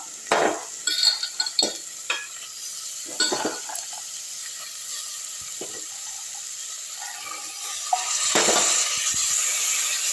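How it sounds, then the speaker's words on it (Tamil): Black-eyed peas sizzle and hiss in a hot pan while a utensil stirs and scrapes, with a few clinks early on and a louder sizzle near the end. "நல்லா வதக்கி விட்டுடலாம்"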